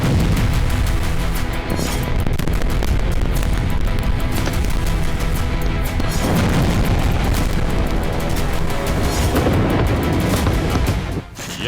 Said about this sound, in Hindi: आईडीएफ ने दक्षिणी लेबनान पर पहला हवाई हमला किया